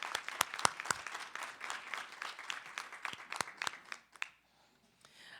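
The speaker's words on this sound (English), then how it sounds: "Please give Albany High School a round of applause" A round of applause for Albany High School at a board of education meeting, scattered claps from a modest crowd that taper off and stop near the end, leaving quiet.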